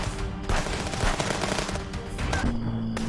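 Gunshots in the Contraband Police video game, a loud continuous shootout with repeated cracking bursts over a noisy background.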